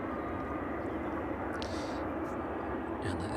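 Jet airliner approaching overhead at East Midlands Airport in the evening, a steady broad engine roar held at even loudness throughout, with a faint voice over it.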